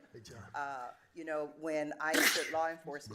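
A single sharp sneeze bursts out during a commissioners court meeting, loud and close, cutting into a man's ongoing speech before he carries on talking.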